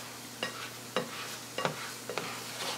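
Eggs stirred in a frying pan, with a steady sizzle and about five distinct scraping strokes spaced roughly half a second apart, close and fairly quiet.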